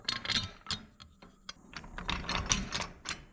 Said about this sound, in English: I've got a 17mm wrench to hold the bolt on one side and a 17mm socket on the other to tighten it up.